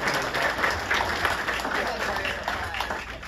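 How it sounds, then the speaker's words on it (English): Applause for a panel at a charity tennis and golf lunch presentation, a steady wash of clapping from the crowd, mid-level, with a speaker's voice running over it. "let's give our whole panel a round of applause"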